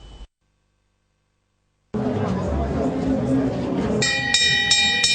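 An electric school bell rings out at a newly opened technical and industrial institute, rattling over loud crowd hubbub for the final second after a short gap of silence.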